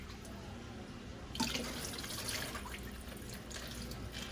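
Tap water splashes and trickles over chicken wings being rinsed in a pot, quiet at first, then a steadier, fuller running flow.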